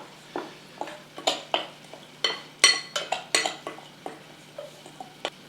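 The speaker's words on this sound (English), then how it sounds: "some chili powder, a little dry mustard, and mix these ingredients up. Smash up that brown sugar if it's in a clump." Chili powder, dry mustard and clumped brown sugar being mixed and mashed in a bowl: a rapid series of close, crisp scraping and clinking strokes with short pauses between, no talking.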